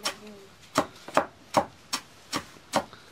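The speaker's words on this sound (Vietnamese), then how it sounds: "Các bác nhìn cô băm rau lợn phải nói là băm như mấy này" Vegetables for pig feed being chopped on a board in a rural Vietnamese home: seven sharp, evenly spaced blows, close and distinct, with no talking.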